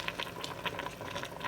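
Water boiling with spaghetti in a Ninja Foodi Deluxe, a quiet, steady bubbling hiss with soft pops, close by and alone.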